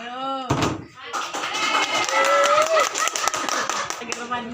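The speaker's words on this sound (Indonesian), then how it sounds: "Tepuk tangan" Hand clapping during a demonstration about gas cylinder explosions, a burst of sharp claps spread over a few seconds, mixed with talk and a sustained tone.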